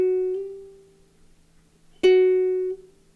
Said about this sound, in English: if it's slow, you're going to actually dampen the string and it'll sound like this